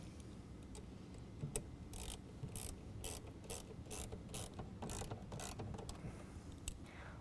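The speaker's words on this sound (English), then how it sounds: "we're going to take our 5/16 again and we're going to tighten that down" A ratchet fitted with a 5/16 socket tightens the intake filter clamp of an S&B cold air intake on a 2017 Ford F-150 5.0L V8, giving a steady run of close, crisp clicking bursts with no talking.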